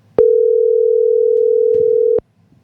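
A telephone dial tone while placing a call, a single steady electronic tone lasting about two seconds, loud and close, starting and stopping abruptly with brief faint noise around it.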